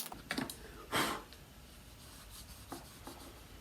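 Fine sandpaper rubbing over a wood inlay repair, giving a few short, dry rasping strokes with one stronger pass near the start, close and fairly quiet, with no talking.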